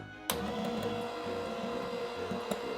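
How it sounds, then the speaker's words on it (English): A hand mixer whirs steadily while whipping orange meringue, a constant motor drone with a sharp click at the start, moderately quiet and alone. "I like when the hand mixer mixes different colors."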